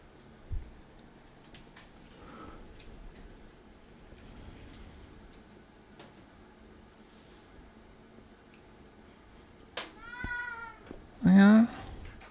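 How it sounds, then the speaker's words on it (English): A house cat meows a few times, one drawn-out call followed by a sharper, louder meow near the end, heard close over quiet room sounds with faint ticking. "sure is meowing"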